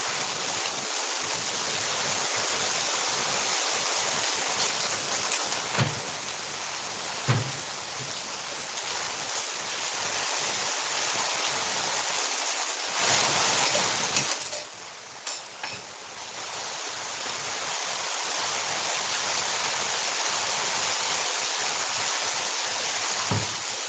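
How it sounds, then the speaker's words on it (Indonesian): Steady rain falling at a house, a constant loud hiss of drops on surfaces throughout with a few brief louder splashes and knocks, no voices. "di rumah saya lagi hujan"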